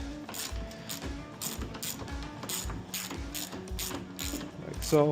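Latch bolts on a Can-Am Defender are loosened with a ratchet, producing rapid repeated clicking in bursts close by, and a brief bit of speech comes near the end.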